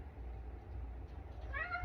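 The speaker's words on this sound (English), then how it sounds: "that sound you hear in the background is my cat yelling at me and my furnace" A pet cat lets out a short, rising meow near the end, faint and somewhat distant over the low steady hum of a household furnace.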